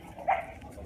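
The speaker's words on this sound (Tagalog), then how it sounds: "Pasensya na kayo sa mga aso guys ha" A single short dog bark outside, heard at moderate distance over faint background noise.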